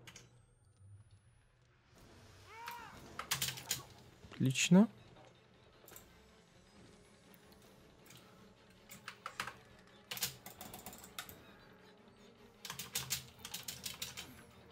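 A computer keyboard clatters in scattered bursts of quick clicky keystrokes, close and fairly quiet, with pauses between runs and a brief spoken word partway through.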